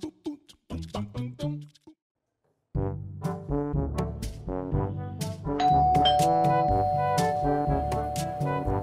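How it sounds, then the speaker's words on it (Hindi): A two-tone ding-dong doorbell chimes several times, pauses, then rings again with a longer, denser run of ringing tones. "डोरबेल बजी।"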